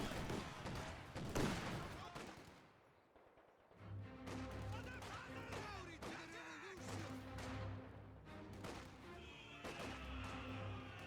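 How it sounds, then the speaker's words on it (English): Autocannon fire in the Company of Heroes 2 video game shredding sandbags, with scattered impacts and crashing bursts amid battle noise and a rumbling engine drone, under a commentator's talk. "And there goes the sandbags to the autocannon fire."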